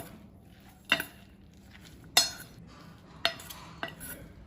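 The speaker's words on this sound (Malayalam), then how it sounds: "ഇതെല്ലാം കൂടെ ഒന്ന് മിക്സ് ചെയ്തെടുക്കാം നമുക്ക്" Okra being mixed with gram flour and lemon juice for a Kerala-style ladies finger masala, with four sharp clinks and scrapes of a utensil against a bowl, spaced apart over quiet background.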